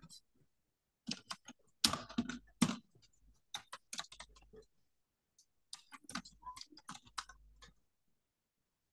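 A computer keyboard tapped in short irregular bursts of clicking keystrokes while a search is typed, close and fairly quiet, with short pauses between the runs of keys.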